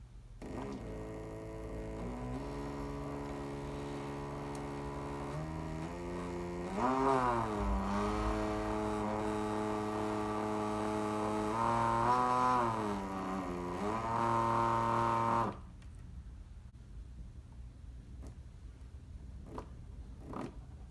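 A hoverboard's sensored hub motor runs on an external bench test, giving a steady electric whine with clear tonal harmonics that rise and shift in pitch as the speed changes, then cuts off abruptly, leaving a quiet background with a few faint clicks.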